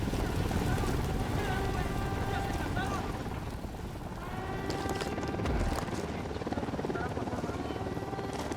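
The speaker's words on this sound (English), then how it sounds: "Chopper inbound. Helicopter, get down." A military helicopter in the video game Ghost Recon Wildlands drones and thumps steadily as it approaches, a loud continuous rotor roar with wind-like noise that swells slightly near the end.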